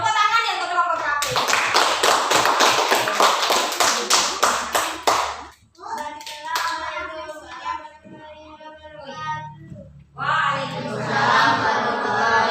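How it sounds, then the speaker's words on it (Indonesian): An elementary school class of children clapping together for a student group, a burst of rapid, loud hand claps followed by children's voices and a teacher speaking. "Oke, tepuk tangan ya untuk kelompok KP."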